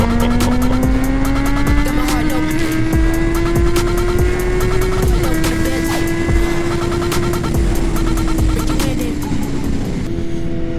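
Kawasaki Z800 motorcycle fitted with an Arrow exhaust, decat, accelerating hard on a public road; a loud, close, sustained engine drone rising steadily in pitch, shifting once around midway, then holding high before easing off slightly.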